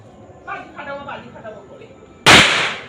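Firecracker bursting outdoors, one loud sharp bang near the end that leaves a hissing, crackling tail, after voices talking beforehand.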